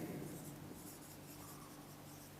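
A pen scratching steadily across a surface as a quadratic sign scheme is worked out in a maths lesson, faint and continuous with no talk.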